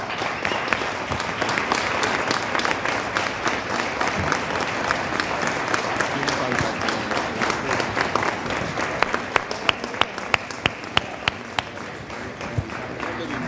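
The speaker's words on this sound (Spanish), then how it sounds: "Un aplauso para ustedes." Steady audience applause at an architecture lecture, continuous and full, with a few sharper individual claps standing out toward the end.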